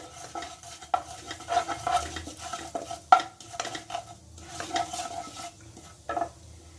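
Fennel seeds and shahi jeera frying in hot oil for a desi-style broccoli curry, heard as a soft, steady sizzle with a few louder clinks of a spoon stirring against the pan, no talking.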